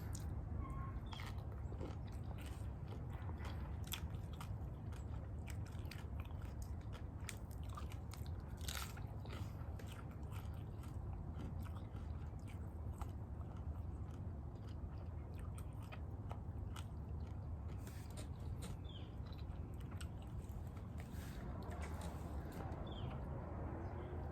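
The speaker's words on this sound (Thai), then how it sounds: "คือตำมะฮุ่งนี่แหละจะกินยังพี่น้องครับ" Spicy papaya salad (som tam) with fresh shrimp and grilled chicken is bitten and chewed close to the mic, soft crunches and wet mastication running steadily under a constant background hum.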